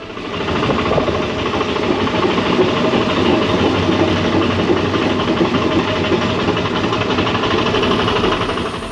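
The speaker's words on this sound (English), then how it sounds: "As soon as we heard the engine rumble, slow and steady beneath our feet, we were captivated." An old diesel engine aboard a ferry rumbles low and steady underfoot, a continuous loud drone with a dense mechanical throb and no voices over it.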